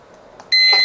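A cheap Chinese car alarm arms itself: a short click, then a loud, sustained electronic beep-tone that starts abruptly and holds steady close to the unit, with no talk over it.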